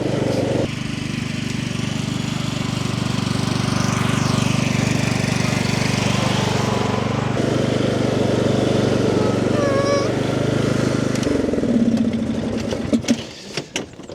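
A Cub Cadet LT3 ride-on lawn mower with a single-cylinder engine drones steadily and loudly up close, shifting pitch as it pulls away in fifth gear and then dropping off into rattling, fading bursts.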